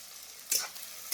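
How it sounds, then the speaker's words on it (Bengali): Chopped onions hit hot oil in a pan on a stove, giving a sudden bright sizzle burst midway that settles into a softer, steady frying hiss. No voices are heard. "পেঁয়াজটা দিয়ে আমি একটু ভালো করে ভাজি করে নিই।"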